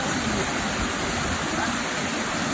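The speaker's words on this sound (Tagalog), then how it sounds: "Tulak ng tubig." Water rushes through an open dam gate in a steady, loud, close roar of broadband turbulence with no pause, and no voices are heard over it.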